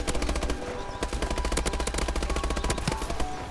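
Call of Duty Advanced Warfare gameplay with loud, continuous automatic gunfire, dense rapid shots rattling without pause for the whole stretch, no voices.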